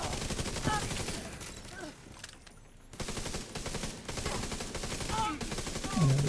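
Turret gunfire in a video game: steady rapid automatic fire rattles almost throughout under a dense battle mix, dropping out briefly partway through before resuming.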